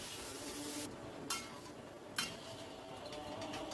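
Okra and mixed vegetables being stirred in a cooking pan on low flame: a soft scraping rumble with two sharp metallic clinks of a utensil against the pan, fairly quiet and close.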